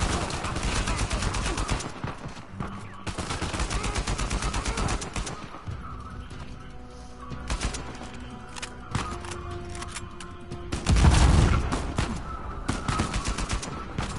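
Rapid AK rifle fire from the video game Uncharted 4 comes in long, loud automatic volleys with short gaps, a heavier blast near the end, and speech mixed in.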